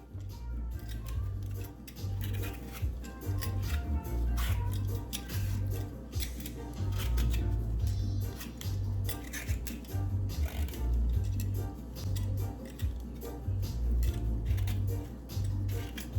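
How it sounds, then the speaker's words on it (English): A pumpkin being peeled by hand gives a long series of rhythmic scraping strokes with soft knocks underneath, close and moderately loud, steady throughout with no voices. "I'm going to go ahead and start peeling my pumpkin."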